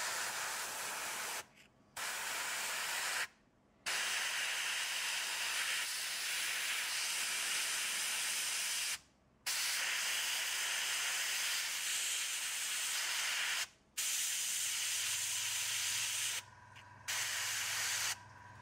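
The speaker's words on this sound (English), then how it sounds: "So I'm doing now the final shade with Duchy Violet, again straight from the cup to my airbrush." An airbrush sprays paint onto a Tyranid Carnifex miniature, giving a loud, steady airy hiss broken by several short pauses as the trigger is released and pressed again, close and with no talk.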